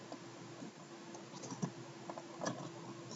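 Quiet, steady computer keyboard typing with scattered soft key clicks under a constant low hum, no voices.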